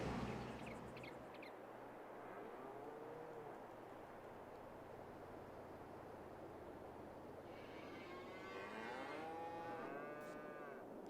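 Cattle moo in Farming Simulator 22 on the Erlengrat map. Drawn-out moos rise near the start and again toward the end over a steady, quiet ambient bed of farm noise.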